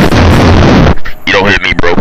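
Dragunov rifle fire in a video game, a loud blast with heavy low-end boom, followed by a voice talking over the game audio.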